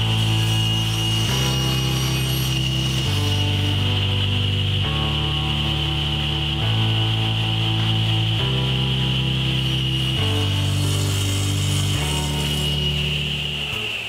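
A table saw rips tiger maple boards in half lengthwise, running as a loud, steady whine with a constant high tone throughout and lower pitch shifts as the blade moves through the wood.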